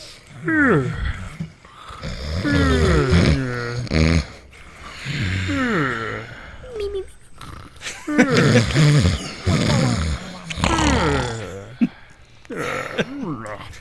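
People voicing imitation snores, with loud, drawn-out growling and rasping vocal snorts in irregular bursts and short pauses between them.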